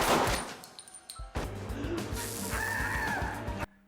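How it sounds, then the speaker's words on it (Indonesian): Gunfire in a film scene: several sharp shots crack out within a busy soundtrack of impacts and background sound, at moderate loudness. "Bob menembak Hooper hingga tewas."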